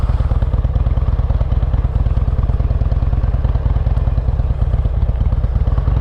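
Harley-Davidson XL883L Superlow motorcycle running with a loud, close, steady engine throb and rapid rhythmic pulsing, no voices over it.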